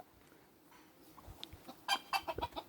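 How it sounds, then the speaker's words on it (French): Farmyard rooster crowing in the distance alongside several hens clucking in short bursts, soft and somewhat far off over quiet outdoor background noise. "monsieur le coq, il chante"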